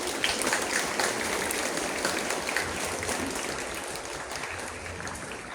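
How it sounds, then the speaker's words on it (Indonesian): Students and participants at an Indonesian school flag ceremony for National Awakening Day clap together outdoors, a dense sustained round of applause from a crowd that stays strong throughout and tapers slightly at the close. "Kita kasih aplaus anak-anak."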